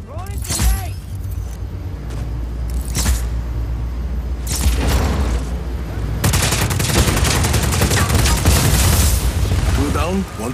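Grenade blasts and rapid gunfire ring out in the open-world shooter Just Cause 4. Loud bursts of shots and booms come close together, with a dense, sustained volley in the second half.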